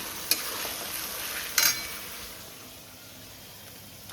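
Garlic and mutton frying in a pan, a steady soft sizzle with stirring, broken by two sharp metallic clinks of a utensil against the pan, close and alone without talk.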